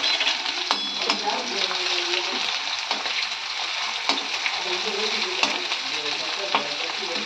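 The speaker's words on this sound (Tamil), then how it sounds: "எண்ணெய் காஞ்சிடுச்சு. நம்ம வெந்தயம் போட்டுடலாம். இஞ்சி பூண்டும் இடித்து வச்சுருக்கேன், அதையும் போட்டுருங்க." Fenugreek seeds and crushed ginger and garlic frying in hot oil, with a bright, steady sizzle and crackle running throughout and occasional sharp pops and clinks, close and clear.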